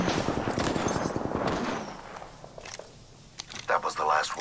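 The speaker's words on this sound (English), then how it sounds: "Taking fire." Rapid gunfire in the Apex Legends video game, dense bursts of automatic shots crackling loudly in the first half before easing into quieter scattered pops and a final louder flurry.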